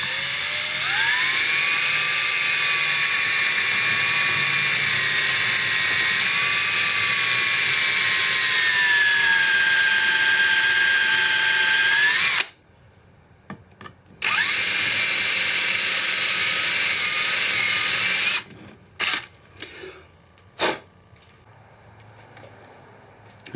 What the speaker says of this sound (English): and I will drill my first hole